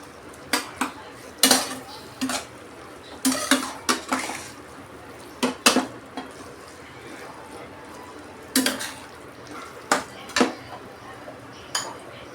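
Metal spoon scraping and clanking against a pan while bhindi curry is stirred and mixed with jaggery, a steady run of sharp close knocks and scrapes repeating every second or so, with no talk over it.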